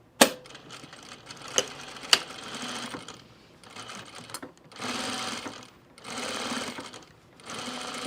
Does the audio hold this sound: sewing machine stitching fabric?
yes